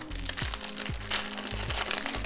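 A plastic bag crinkles and crunches close up in short rustling bursts as a small travel first aid kit is unpacked, with faint low thumps underneath.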